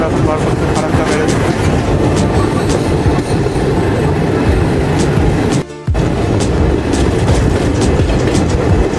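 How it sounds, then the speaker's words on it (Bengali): The 13415 Patna Express passenger train runs on rails near New Farakka Junction with a loud, continuous rumble and rhythmic clatter from close by, briefly dipping once before resuming. "আমাদের ট্রেন এখন ঢুকছে নিউ ফারাক্কা জংশনে।"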